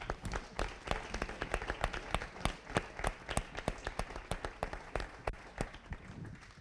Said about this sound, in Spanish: le vamos a despedir con un aplauso